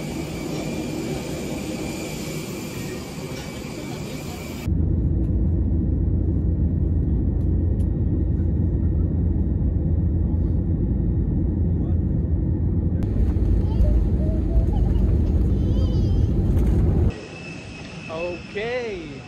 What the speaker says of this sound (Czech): jdem do letadla, 2 hodiny cesty do Cancúnu